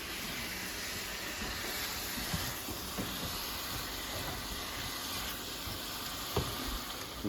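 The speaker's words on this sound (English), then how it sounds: "And I'm gonna saute 2 to 3 minutes." Vegetables sautéing in a pan for short ribs, a steady soft hiss running evenly throughout with a few faint clicks and taps, moderately quiet and with no voices.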